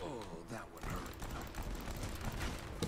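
A shotgun turret in the mobile shooter Modern Combat 5 fires in dense overlapping blasts amid other battle noise, loud and continuous, with speech underneath.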